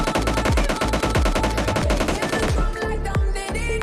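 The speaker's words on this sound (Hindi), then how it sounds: "अरे शॉर्ट गन मत चलाओ," Rapid bursts of video-game gunfire, shotgun blasts included, crack out loud and close in a dense, nearly continuous volley that thins into scattered heavy shots toward the end.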